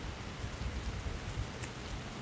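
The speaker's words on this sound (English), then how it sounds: "An appreciation for this rain" Steady rain falls in a park in Columbus, Ohio, a soft, even hiss of drops on leaves and ground with no voices, faint and continuous throughout.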